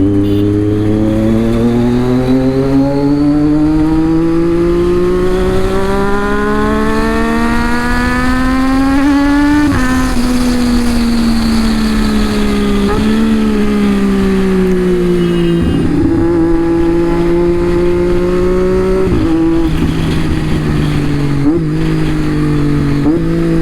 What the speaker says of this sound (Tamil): வெடிக்கிறது தெரியுதா உங்களுக்கு? இந்த குயிக் ஷிஃப்டர் தாங்க.